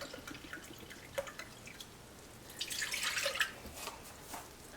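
One cup of apple cider poured into a pot in the kitchen, with a soft close splashing stream swelling briefly in the middle amid faint drips.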